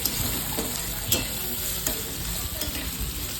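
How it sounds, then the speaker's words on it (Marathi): Onion frying in a pan while being stirred, with a steady loud sizzle and occasional clinks and scrapes of the spoon against the pan. "तर इथे बघू शकता तुम्ही की छान कांदा असा शिजलेला आहे"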